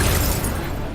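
A burst of magical spell noise from the Accio summoning charm in Hogwarts Legacy, a dense, loud whooshing rush that fills the whole moment and fades slightly toward its end.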